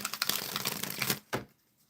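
Tarot cards being shuffled by hand, a dense flurry of crisp riffling and flicking for about a second, then one sharp slap of the deck before near silence.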